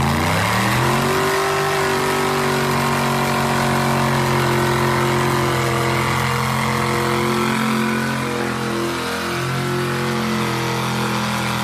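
Rock bouncer off-road vehicle engine revving hard and loud close by, a steady rising then sustained roar with strong harmonic drone throughout, easing slightly toward the end, no talking.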